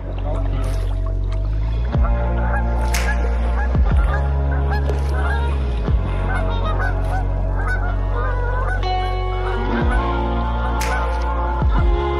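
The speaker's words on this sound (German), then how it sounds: "Immer wieder sehen wir auf der Tour Gänse und andere Wasservögel." Geese honk repeatedly, loud and close, along the Sieg river during a kayak tour, their calls layered over a steady low hum, with brief sharp sounds scattered through.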